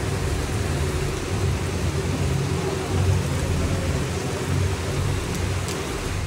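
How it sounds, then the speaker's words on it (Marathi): Heavy rainstorm pouring steadily in Nashik during an early-morning procession, a dense, constant roar of rain with a low rumble underneath, loud and unbroken throughout. "तुफान पाऊस."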